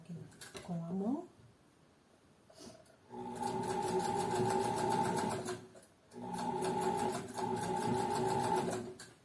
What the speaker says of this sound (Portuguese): Para isso eu giro a roda da máquina com a mão.